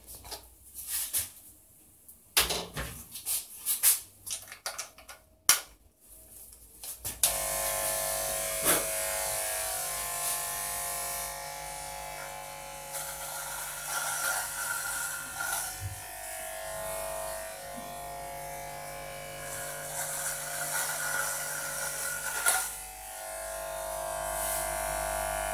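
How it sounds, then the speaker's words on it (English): A Rotex RHC 120-S electric hair clipper cutting hair, a steady close buzzing drone that runs continuously after some handling noise at the start. "As you see, the hair cutting machine is work pretty well."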